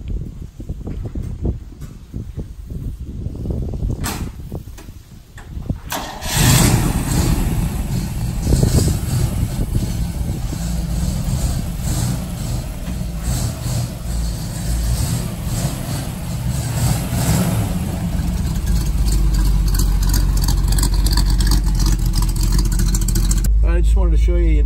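A red 1961 Corvette with a 283 V8 starts up and pulls onto the road, the engine rumbling steadily and building as it drives. Someone talks over the start.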